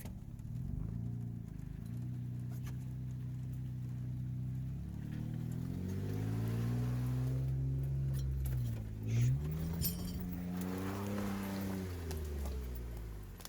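An off-road vehicle grinds along in first gear on a steep wilderness road, its engine droning and revving up and down steadily and close by, with no talk.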